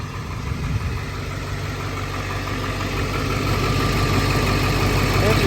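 A 2003 Ford F-550 Autocrane service utility crane truck idles on a cold January day in Maryland, giving a steady, close, even rumble that holds at a constant level throughout without revving.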